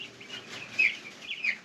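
Cornish Cross meat chickens give soft clucks and a couple of brief higher chirps, close by and quiet, with no voices.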